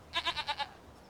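Goats bleating in Farming Simulator 25, five quick wavering bleats in a rapid burst, moderately close, then a quiet farm ambience with no talking.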